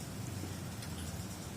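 Steady rain falls outside a ketupat sayur food stall in Pondok Kopi, heard as a faint, even hiss of patter continuing throughout with no talking over it.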